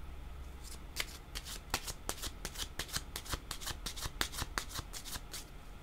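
Tarot cards are shuffled in a fast run of crisp riffling snaps, a steady rhythmic flutter lasting several seconds, close and fairly quiet, with no talk over it.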